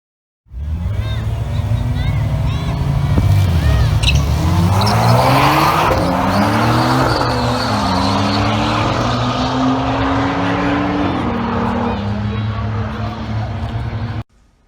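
Turbocharged drag car making a pass at Mooresville dragway, engine roaring loud and close with rising pitch sweeps as it shifts through gears for about fourteen seconds, then cutting off abruptly.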